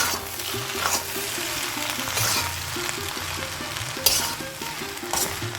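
Mixed street-food chowmein noodles stir-fried in a hot pan, sizzling loudly and continuously, with regular scraping and clanking of the spatula against the metal and occasional sharper hits, close up with no talking.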